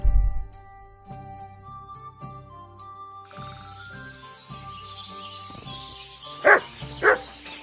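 The dog Mutt in Kingdom Come Deliverance 2 gives two quick barks near the end over soft game music, moderately loud and close, with a faint jingle nearby.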